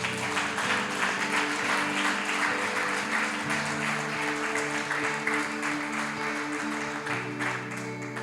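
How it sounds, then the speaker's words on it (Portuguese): A church congregation applauds for Jesus during a Sunday morning sermon, steady dense clapping filling the room for several seconds alongside sustained musical tones underneath, no talking over it. "Pode dar uma salva de palmas para Jesus?"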